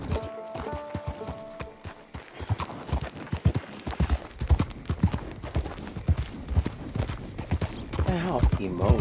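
Horse hooves clip-clop steadily in Detroit: Become Human, with a possible whinny, under frequent talking and other game sounds.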